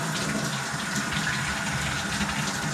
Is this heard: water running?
yes